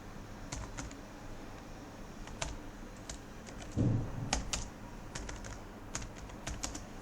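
Soft, close clicks from a computer keyboard as C++ code is typed, coming in irregular bursts of keystrokes over a low steady room hum, with no talking.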